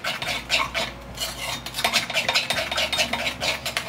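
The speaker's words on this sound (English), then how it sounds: "I'm just gonna give that a good mix." Sesame salad dressing being mixed with soy sauce in a bowl, a close rhythmic run of scraping and clinking strokes of a utensil against the bowl, alone without talk.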